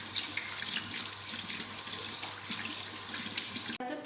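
Hands are rinsed under a running tap, a steady close splash of flowing water that cuts off abruptly just before the end, with no talking.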